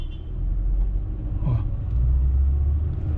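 A facelifted Mercedes-Benz GLA 200 with a 1.3 turbo engine pulls away slowly, its low engine rumble heard from inside the cabin, building steadily with a brief change as the gearbox shifts midway.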